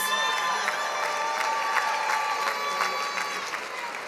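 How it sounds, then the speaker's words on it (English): A commencement crowd applauds and cheers for Executive Master of Leadership graduates, dense continuous clapping with scattered whoops and shouts, even and sustained throughout. "Let's give a round of applause to the Executive Master of Leadership graduates."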